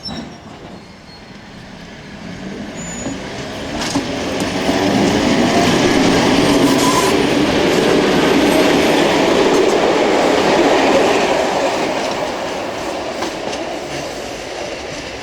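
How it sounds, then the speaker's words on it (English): A commuter train on the Johnsonville line rolls around a big curve, its rumble swelling to a steady roar mid-pass with rhythmic clickety-clack of wheels on rail, then gradually fading as the cars move away. "The big curve here has always been a good spot to watch the trains come and go"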